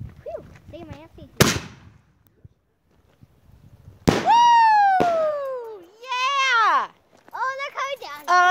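Fireworks go off outdoors in a few sharp, loud bangs spread over several seconds, mixed with people shouting and yelling close by.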